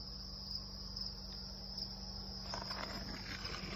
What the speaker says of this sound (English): Literal baby crickets all over the place.